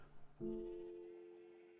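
A single sheep bleat from the video game Minecraft sounds once, a short wavering nasal call that is soft and fairly close, after a brief muffled rustle.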